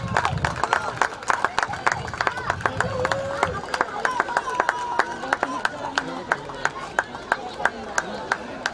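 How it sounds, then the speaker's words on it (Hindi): Crowd at a semi-final cricket match claps for batsman Robin after his innings, with brisk, continuous scattered clapping and a faint murmur of voices underneath, steady and fairly close throughout. "रॉबिन के लिए जोरदार तालियां होनी चाहिए दोस्तों"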